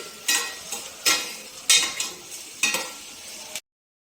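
Frying in a pan while making egg curry, with a low sizzle broken by about six sharp, close bursts of stirring and spattering at irregular intervals, before the sound cuts off abruptly.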